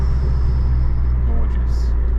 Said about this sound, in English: Now if you can hear that turbo,